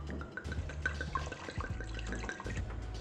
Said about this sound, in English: I'm going to add in the wine